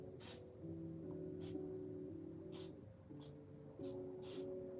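Zip glue accelerator is sprayed from a can in several short hissing bursts, spaced about a second apart, over a steady background hum, close and fairly quiet.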